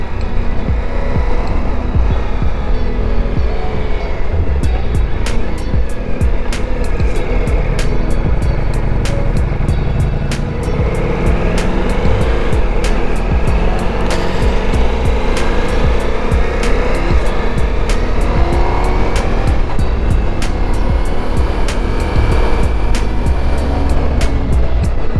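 A Ducati Multistrada V4 S motorcycle rides at speed, its loud engine roar running steadily under heavy wind rush, with a regular series of sharp ticks that could be quick-shifter gear changes.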